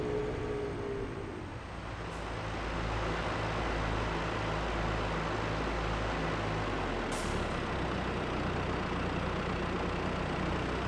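Steady low engine drone of a tractor in Farming Simulator 22 running along a field track, a constant rumble with a faint rhythmic pulsing, heard alone without talk.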